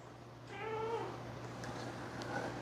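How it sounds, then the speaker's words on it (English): A cat meows several times in a kitchen, the calls clear and fairly close, over a steady low appliance hum. "There's a kitty down here"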